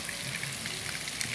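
Heavy rain pours onto a street on the Avenida das Nações in Castelo Branco, a dense, even hiss of drops spattering the surface with no voices.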